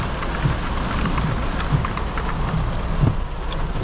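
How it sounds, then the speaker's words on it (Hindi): Heavy monsoon downpour on a mountain drive toward Jalori Pass, steady dense hiss of rain drumming on surfaces without letup, loud and close, with faint low thumps of drops hitting nearby. "बारिश मूसलाधार"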